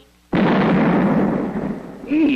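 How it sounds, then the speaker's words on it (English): A sudden loud explosion bursts in and rumbles on for a couple of seconds before fading, followed by a faint voice. "I thought I heard a noise like an explosion."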